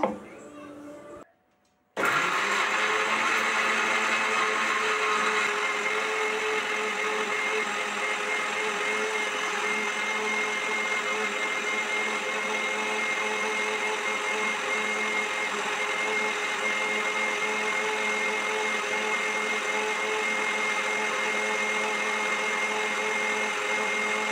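An electric mixer grinder runs steadily for a long stretch grinding spice paste with a little water, a loud even motor whir after a brief start, with a voice speaking over it early on.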